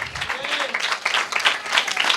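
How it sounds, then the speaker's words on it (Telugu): A church congregation claps together at an Easter Sunday sermon, a dense, lively burst of applause that stays strong throughout the short stretch, with a voice faintly mixed in. "Give big claps to Jesus Christ."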